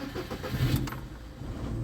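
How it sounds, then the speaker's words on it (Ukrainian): A 2013 VAZ 2110 car engine being started: a brief crank that catches and settles into a running idle close by. "Так, заводимо машину."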